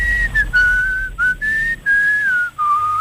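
A man whistles a sustained, wavering melody imitating a pan flute, loud and close, in several long phrases with short breaks between them.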